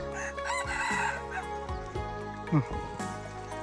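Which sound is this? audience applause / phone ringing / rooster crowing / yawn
rooster crowing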